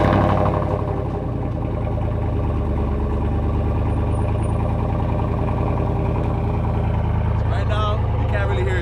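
A Lexus IS250 with a swapped-in 2JZ engine and a muffler delete idles on a cold start with a steady, loud, deep rumble, and a person talks over it.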